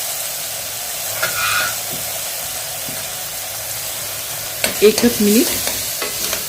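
Indrayani rice dry-roasting with spices in a pan over a low gas flame, stirred by hand. Quiet sizzle runs throughout, with a short burst of close scraping strokes near the end and brief speech.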